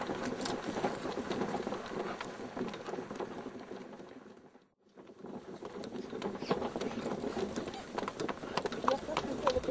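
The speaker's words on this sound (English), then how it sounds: "Bumping around on a horse and cart is tiring" Horse and cart in Senegal rolling along, a busy outdoor rattle of hooves and wheels with a brief dip to near silence midway, then resuming at the same level.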